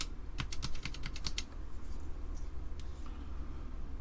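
Keys on a cleaned Amiga 500 keyboard being pressed, a quick burst of crisp plastic clicks followed by a few scattered taps, close and fairly quiet over low background hum.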